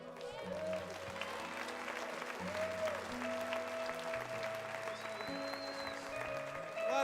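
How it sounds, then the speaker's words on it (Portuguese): A church congregation applauds steadily for several seconds during a worship service, a dense, fairly loud patter of many hands, with voices and sustained tones underneath. "Você pode aplaudir mais uma vez ao Senhor Jesus"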